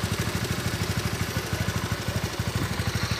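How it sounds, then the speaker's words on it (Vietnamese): A Honda Winner X motorcycle with 43,000 km on it idles up close, a smooth, even, rapid engine thump with steady low chugging pulses and no talk. "tiếng máy nổ thì khá chi là êm"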